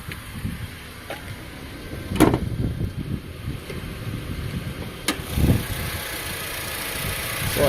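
2004-2008 Acura TSX with a new belt idles at a steady low rumble, with a few brief clicks and knocks over the running engine, moderately quiet and close.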